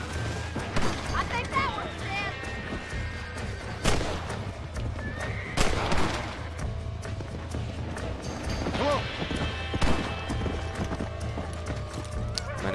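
In the Red Dead Redemption video game on Xbox 360, a horse's hooves clip-clop and it whinnies several times, while someone talks over it.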